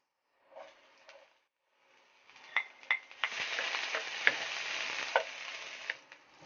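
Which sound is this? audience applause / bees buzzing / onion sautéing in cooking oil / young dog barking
onion sautéing in cooking oil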